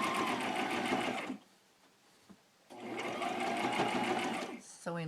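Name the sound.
sewing machine stitching needlework onto a bag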